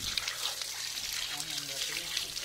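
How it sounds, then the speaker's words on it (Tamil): Quail being washed under running tap water, a continuous close trickle and splash of the stream over the birds in a kitchen, fairly quiet throughout. "ரன்னிங் வாட்டர்ல விட்டு நல்லா கழுவிடுறோம்"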